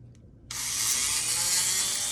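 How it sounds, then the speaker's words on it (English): After a brief quiet moment, a small Dremel rotary tool bursts into a steady, high whine as it widens a tiny hole in an egg, running continuously and fairly close. "And I take my Dremel and I put it right on that hole."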